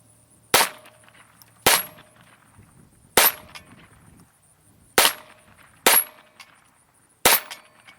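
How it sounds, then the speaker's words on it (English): Six sharp pistol shots from a Beretta Neos ring out at a target, each a loud close crack with a short decay, spaced unevenly about one to one and a half seconds apart, with quiet between them. "for the sake of the video, I'm just going to keep shooting it"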